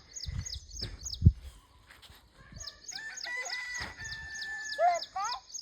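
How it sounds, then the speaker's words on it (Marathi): A rooster crows amid clucking and repeated high chirps, fairly faint, after a few soft thumps at the start. "मुर्गा."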